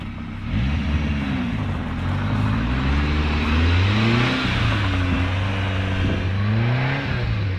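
Mini truck driving through snow with its engine revving, the pitch sweeping up and down repeatedly as it accelerates and eases off, loud and close throughout with no talk.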